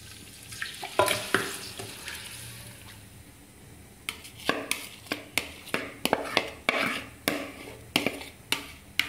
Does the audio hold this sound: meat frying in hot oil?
yes